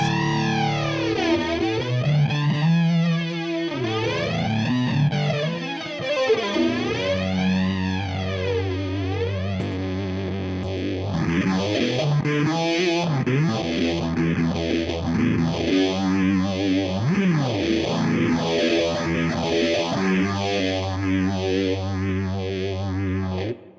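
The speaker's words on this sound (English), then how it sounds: "we got some flange, we're in the clean side, and then we add this stupid big muff" Electric guitar chords through an Orange Crush Pro 120 head's clean channel drenched in a sweeping flanger, the whooshing pitch swells cycling up and down, then thickening into heavy Big Muff fuzz distortion.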